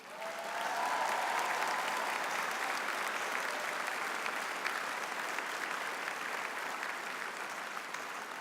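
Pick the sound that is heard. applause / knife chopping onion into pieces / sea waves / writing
applause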